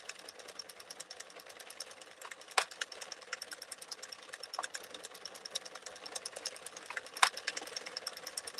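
Hand-cranked yarn winder turning steadily and winding yarn, giving a fast, even mechanical clicking whir with occasional louder ticks, faint and close.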